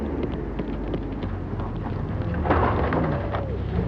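A rally car in the 1991 Mazda Winter Rally skids and crunches into a tree, a dense, loud rumbling roar that swells into a heavier impact burst partway through, with no speech.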